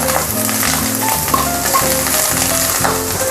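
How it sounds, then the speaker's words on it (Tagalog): Black mushrooms and carrots fry in a pan of fried rice, giving a steady, close sizzle with crackling texture throughout. A few faint rhythmic tonal clinks also run underneath, and no one speaks. "We'll put now our black mushrooms, our carrots,"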